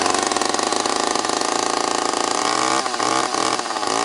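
An old Dodge engine, slow to start, runs with a loud, steady, buzzing drone that holds constant throughout, close up with no talk over it.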